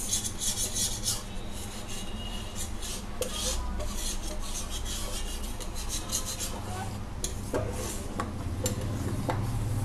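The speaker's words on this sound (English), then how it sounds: "Like this we have to scrape the edges." A spoon scrapes the edges and bottom of a pan while milk for rasmalai is stirred, making repeated rough rasping strokes close by over a steady low background.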